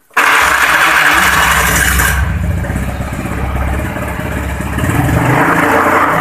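A motorcycle engine starts abruptly and is revved, a loud close rumbling roar that eases slightly and then climbs again toward the end.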